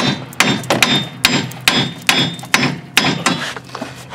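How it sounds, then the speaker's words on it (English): Hammer blows ring out while driving out a Hyundai Elantra axle, about nine sharp metallic strikes at a steady, slightly irregular pace, close and loud. "And then we'll hammer it out as far as we can."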